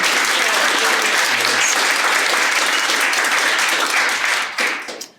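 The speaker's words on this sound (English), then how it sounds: "Let's everyone give Keith a round of applause." Audience applause welcoming a guest at a business talk, full and continuous clapping at a steady level that fades away in the last second.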